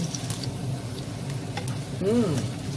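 Ginger frying with onion for pakbet, a steady close sizzle with light stirring scrapes and a brief voice near the end.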